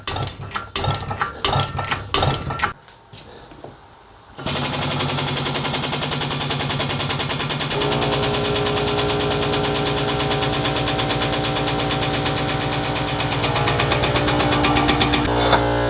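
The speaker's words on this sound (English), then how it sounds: "Oh, it's pushing the jack up." A jack is ratcheted up with a fast, even stream of loud mechanical clicks that runs for about eleven seconds without a break. Softer scattered clatter comes before it.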